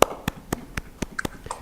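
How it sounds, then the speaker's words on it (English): Single claps ring out during an online conference webinar, about eight sharp, close hand claps spaced evenly at a slow, deliberate pace, with quiet room tone between them and no talking. "Let's give a virtual applause for Dr. Sundara"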